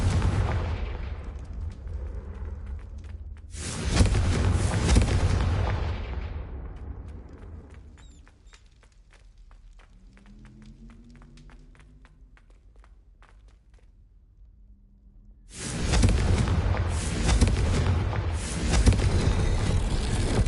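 Confringo spell blasts from Hogwarts Legacy erupt in loud, broad explosive bursts, one at the start and another near the end, separated by a quieter stretch of footsteps and faint game sounds.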